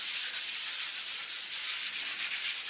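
Hand sanding of a primed door panel before painting, a continuous close scratchy rub with quick regular back-and-forth strokes and no speech.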